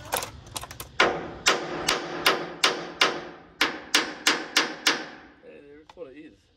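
Hammer blows ring on a chisel set against a bearing housing while an old steel trawler is stripped out for conversion: a quick cluster of taps, then about a dozen sharp metallic strikes at an even pace, close up, ending with brief voices.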